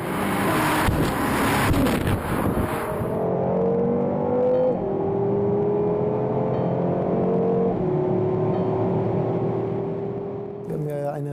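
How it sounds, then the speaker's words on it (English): A BMW M6 Gran Coupe V8 engine revs and pulls through gears, a loud sustained roar climbing in pitch with a distinct shift partway, close to the microphone, ending with a sharp burst. "The M6 is hungry for speed and expresses this acoustically at the press of a button."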